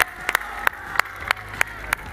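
Sharp, evenly spaced claps sound close and fairly loud over a low hum at a freestyle rap battle, about eight hits in two seconds, with no voices over them.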